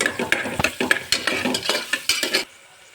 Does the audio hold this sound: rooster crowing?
no